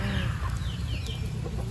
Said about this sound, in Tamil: அங்க பாரு, கோழி கொத்த பாக்குது.